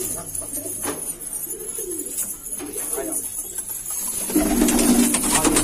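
Hyderabadi pigeons coo softly and repeatedly, low throaty calls nearby, with a denser burst of cooing and bird sounds toward the end.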